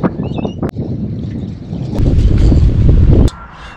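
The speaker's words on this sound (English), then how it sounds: "the wind started to pick up." Wind picking up at a campsite, gusts blustering and buffeting against the microphone and swelling louder toward the end before cutting off abruptly, with no speech.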